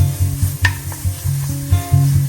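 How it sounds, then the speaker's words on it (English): Tomato paste sizzling in a pot while being cooked down for a rainy-day chili, a steady loud fry with repeated scraping stir strokes roughly every half second, close and with no voices. "We just want to kind of cook this tomato paste"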